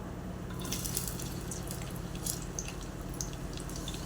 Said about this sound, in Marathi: तेलही गरम झाले त्यामध्ये आता कांदा सोडूया